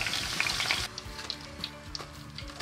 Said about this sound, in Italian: adesso sto continuando a friggerle all'interno dell'olio d'oliva